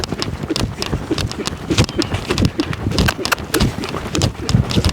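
A young colt being started under saddle lopes around a round pen, its hooves striking the ground in quick, irregular clip-clop beats close by, with the steady rhythm of a loping gait.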